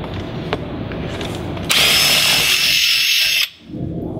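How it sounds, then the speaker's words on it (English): A power drill bores a pilot hole during a Prowler Windjammer install, whirring loudly in one sustained burst of under two seconds that cuts off abruptly, after quieter handling noise. "So for aesthetic reasons, we're just going to pilot our own hole."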